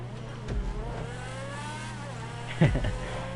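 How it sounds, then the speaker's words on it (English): A car revs and accelerates while racing in the video game GTA V, with engine tones climbing and falling and a brief sharp burst near the end. "Alright, so first time racing this car."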